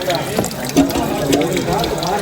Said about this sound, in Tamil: சோனைக்கு தண்ணி பிடிக்க வந்தாச்சு.